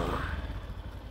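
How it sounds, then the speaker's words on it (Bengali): A motorcycle engine idles close by with a low, rough rumble and light clatter as the bike is turned and parked. "আমি একটু বাইকটা ঘুরায় রাখি"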